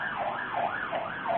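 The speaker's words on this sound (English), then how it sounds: "There's an ambulance in the background, I think, there." An ambulance siren wails in a steady rising-and-falling pattern, heard faintly in the background without any speech over it.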